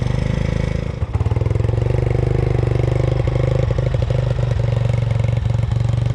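The engine of a 1985 Yamaha YTM 200e three-wheeler runs steadily close by, a loud rapid putter at idle with small throttle blips and no talk over it.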